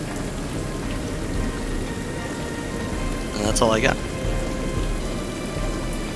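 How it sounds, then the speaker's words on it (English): A rain and wind sound effect plays as a steady background wash during a tabletop role-playing game, with a person talking over it. "through the sound of the rain and the powerful wind"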